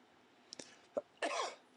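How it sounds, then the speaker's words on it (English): A few quiet, short coughs or throat-clearing sounds, faint and close, ending in a longer raspy burst. "First cough I've had in a while."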